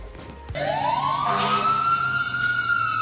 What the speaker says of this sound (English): Sound the sirens